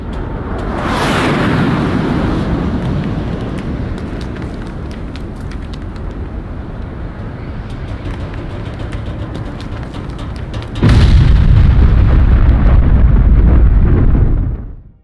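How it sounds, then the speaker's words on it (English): Large explosion in a video game, heard from a cliff at a distance, a long rolling rumble that later swells into a louder, heavier roar before cutting off. "So the explosion was visible pretty much straight away, but it took time for the sound wave to reach you on the cliff."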